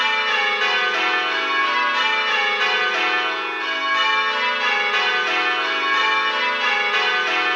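Church bells ring continuously in steady rounds, a loud, even cascade of overlapping peals from the tower as the ringers work through call changes, with no talk.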